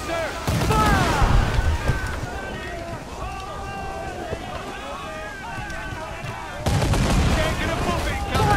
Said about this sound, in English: We'll give a good broadside!